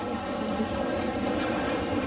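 An Asakusa Line Airport Rapid Limited Express train at a station gives off a steady, loud rumble with a broad hiss and no break, heard up close.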